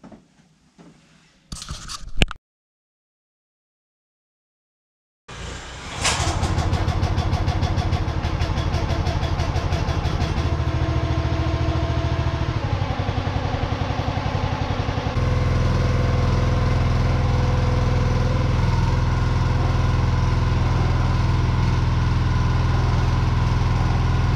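A portable generator starts after a short silence and settles into a loud, steady engine drone that runs on continuously, with a slight change in pitch partway through.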